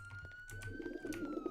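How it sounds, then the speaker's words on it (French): A pigeon coos in a dark roleplay video game, soft rolling calls close up over a faint background hum and light clicks. "Où est le petit pigeon?"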